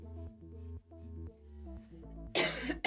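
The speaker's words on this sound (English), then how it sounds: "That cough still holding on" A single harsh cough bursts out near the end after a quiet stretch of soft tonal background sound, close and loud.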